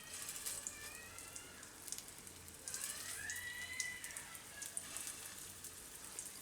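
Soya wadi kebabs roast on a hot pan over low heat, a soft, faint, steady sizzle and crackle like light rain, with a few faint clinks.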